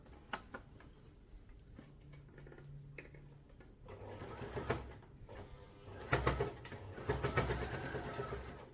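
A sewing machine stitches fabric for a storage cube bag, including backstitching to lock the seam; the mechanical rattle comes in bursts, quieter at first and louder and busier in the second half, fairly close.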